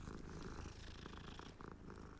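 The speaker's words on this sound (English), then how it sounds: "funky meow that cat had" A cat in the Hogwarts Legacy video game purrs softly and steadily, a quiet continuous rumble with a faint meow-like tone near the end.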